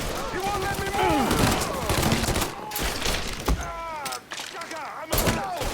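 Gunfire from the video game Mafia III, dense overlapping shots and bursts running nearly the whole time with voices shouting over the din.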